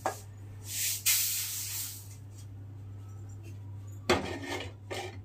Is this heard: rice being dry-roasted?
yes